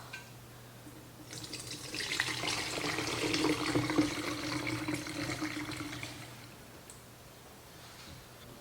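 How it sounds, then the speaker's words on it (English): Homemade broth poured into a fat separator with a melted-off handle: a steady splashing, trickling pour that swells for several seconds and then tapers off into a few drips, close by with no talk. "In our fat separator, which I have melted the handle off, we're gonna pour this yummy broth."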